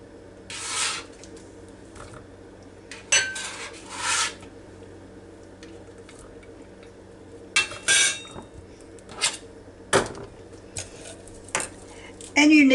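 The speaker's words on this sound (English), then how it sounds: "And I'm going to just cut my tomatoes in half." A knife slices tomatoes in half on a board for an avocado salad, producing scattered short cutting strokes and clacks against the surface, some sharper knocks spaced irregularly over a quiet kitchen background.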